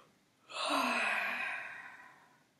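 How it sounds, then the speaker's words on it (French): A single long exhale through the mouth while rolling the shoulders forward in a do-in arm exercise, rising sharply then fading slowly over about two seconds, close and clear with no talking. "On souffle lorsque on roule les épaules en avant."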